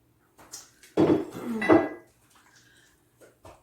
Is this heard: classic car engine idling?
no